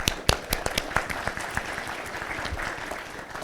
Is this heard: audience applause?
yes